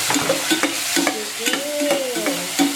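Onion and tomato frying in a pan, a steady crackling sizzle broken by repeated scraping and stirring strokes of a utensil against the pan, close and fairly loud, with no talk.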